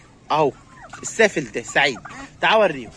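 A domestic turkey gobbles in short, loud, throaty bursts from near a coop, with someone talking close by between the calls.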